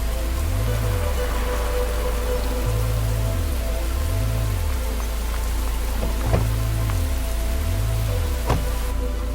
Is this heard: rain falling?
yes